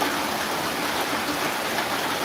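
Heavy rain pours down in a dense, steady hiss, a close and unbroken wash of falling water with no voices over it.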